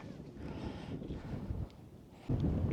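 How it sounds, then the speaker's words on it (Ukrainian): Wind rumbles and buffets against the microphone in low gusts, rising sharply near the end. "Знову, знову гарно подув вітер"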